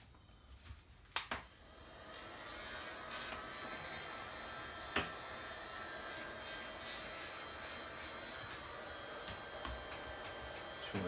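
A heat gun blows a steady, even hiss while shrinking heat-shrink tubing over bullet connectors on a Pro-Line PRO-MT 4x4 monster truck, with a couple of sharp clicks near the start and a faint tap midway.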